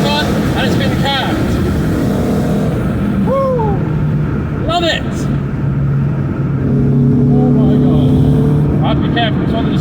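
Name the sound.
cammed Renault Clio 182 Trophy engine revving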